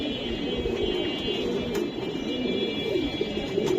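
A large female Rabbani pigeon coos in low, rolling, repeated throaty notes, close by and steady over a faint background hum.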